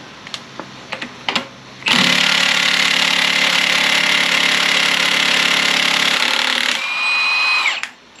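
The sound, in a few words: impact gun removing 3800 V6 harmonic balancer bolt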